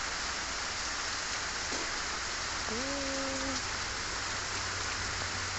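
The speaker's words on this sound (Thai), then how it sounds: "ฝนตกบรรยากาศดี" Rain falls steadily on a small home garden, a constant even hiss with no lulls, and a short whistled call rises briefly over the downpour midway through.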